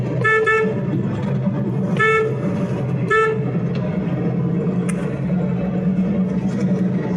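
A vehicle horn sounds in three loud bursts, the first a quick double toot, while the car overtakes a bike on the road, with steady engine and road rumble underneath.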